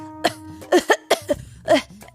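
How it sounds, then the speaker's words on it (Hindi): A voice produces a series of short, deliberate coughs, about five or six in quick succession, close and fairly loud. "वो नकली खांसी खांसते हुए कमजोर आवाज में बोले"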